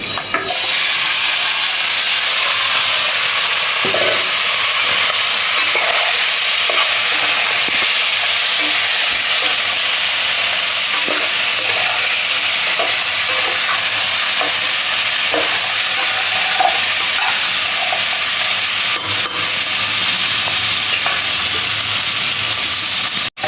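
A large fish head frying in spice masala, stirred in the pan: continuous loud sizzling and hissing with repeated scraping knocks of the spoon at an irregular pace, close by, no talking.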